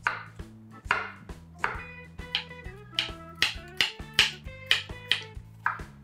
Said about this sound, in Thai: วิธีการสับหอมใหญ่นะคะ